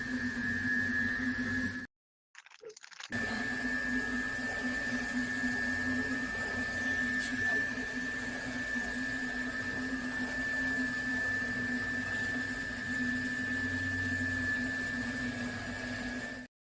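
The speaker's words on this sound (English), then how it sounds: "The layer fans are louder than hell." 3D printer running with loud layer cooling fans, a steady whirring drone with a constant tonal hum, close and continuous, briefly cut out near the start.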